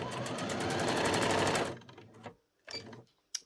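A sewing machine runs in a fast, even stitching burst through elasticated doll's pyjama trousers, then stops, followed by a few faint handling clicks and taps.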